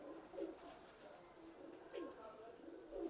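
Taddy pigeons cooing three times in soft, throaty bursts spaced about a second apart, over a steady hiss of background noise with faint voices in the distance.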